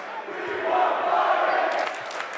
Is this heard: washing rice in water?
no